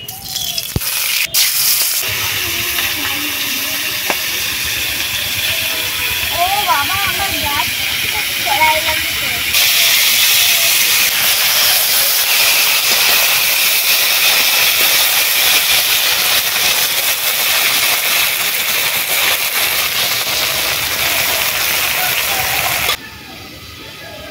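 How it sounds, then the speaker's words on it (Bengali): Fish frying in mustard oil in a wok, a loud, steady hiss that fills the whole stretch, with faint voices briefly under it. "মাছ ভাজার জন্য কড়াইতে সরষে তেল দিয়ে"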